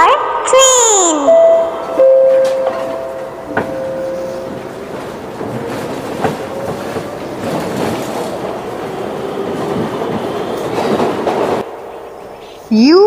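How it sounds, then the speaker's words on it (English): A train passes with a rumble and rhythmic rattling of wagons, and whistle-like tones early on. A voice and other speech are heard over it. "T for train."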